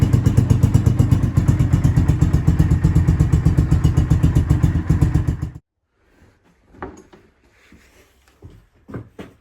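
Enduro motorcycle running on its old exhaust can, a loud, close, rapidly pulsing idle that stops abruptly midway, leaving quiet with scattered clinks and knocks.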